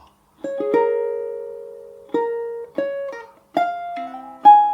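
Plucked ukulele chords played slowly and alone, each strum ringing out and decaying before the next, about six in a halting rhythm, from a jazzy fingerstyle arrangement.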